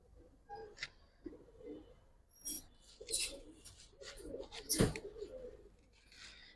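Mukhshi pigeon chicks give soft, faint coos and small chirps in scattered bursts, close by, with light voices and handling noises around them.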